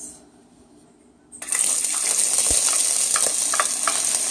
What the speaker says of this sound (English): Now I'm going to cook down my onions.